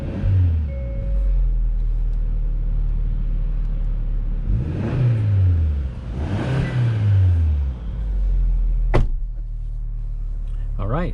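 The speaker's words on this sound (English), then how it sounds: "take this 2021 Hyundai Sonata N line on a test drive" A 2021 Hyundai Sonata N Line heard from inside the cabin on a test drive: a steady low engine hum with a couple of rising and falling revs, and a sharp click near the end.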